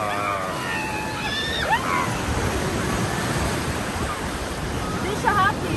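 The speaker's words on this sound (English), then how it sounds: "She knows these waves are crashing." Ocean waves crash steadily on a beach, a continuous loud roar of surf and wash with a few brief high voices over it.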